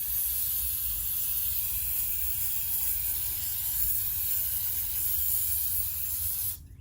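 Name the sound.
spraying cleaner into throttle body ports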